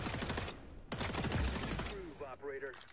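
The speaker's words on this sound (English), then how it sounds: "Oh, I didn't even realize some of my teammate was being shot at." Gunfire crackles in the shooter game XDefiant, with a fast volley of shots that fades behind someone talking over it.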